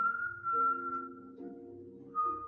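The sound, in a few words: person whistling an eerie tune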